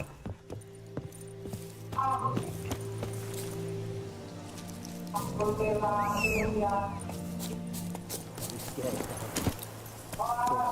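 Hooves of Geralt's horse Roach clip-clopping in The Witcher 3, a steady trotting rhythm running through the scene beneath game music, with a person talking over it at times.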